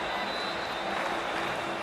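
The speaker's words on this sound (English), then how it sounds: "already the crowd is up and about" A cricket stadium crowd roars and applauds before the match starts, a dense, steady wash of cheering from many people at a distance.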